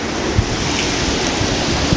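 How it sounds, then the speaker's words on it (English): Ocean waves roaring during Hurricane Sandy in Portmore, Jamaica, a loud, steady broadband wash of surf mixed with gusting wind noise and a few low thumps. "Ocean is making a lot of noise."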